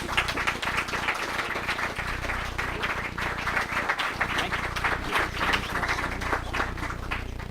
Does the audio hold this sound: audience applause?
yes